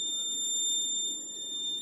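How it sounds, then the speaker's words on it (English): The buzzer of a vehicle accident detection system sounds a continuous high-pitched electronic tone, steady and near, with no speech. "Buzzer is on, engine is off."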